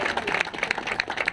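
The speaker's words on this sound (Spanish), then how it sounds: "Un aplauso para nuestros hermanos del Ágora Popular" Audience members at a congressman's visit to a popular assembly clap together in a brief, dense burst, loud and close with a rapid irregular patter and no speech over it.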